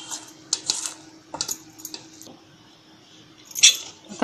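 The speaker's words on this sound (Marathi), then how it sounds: "हा 1-2 मिनिट पीठ असं फेटून घेते चांगलं." Gram flour batter for capsicum pakoda is beaten by hand in a bowl, giving irregular clinking and scraping strokes in short bursts, close by, with no talking.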